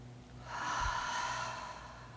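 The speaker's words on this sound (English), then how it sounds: "let's just breathe in for one" A single slow, deep breath drawn in during a guided relaxation, a soft airy rush that swells after a brief pause and holds steady at close range without speech.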